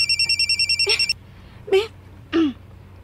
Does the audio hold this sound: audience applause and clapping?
no